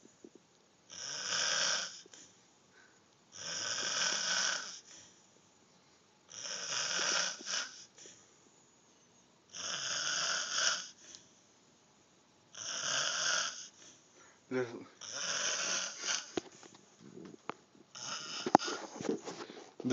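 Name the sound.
man snoring after drinking alcohol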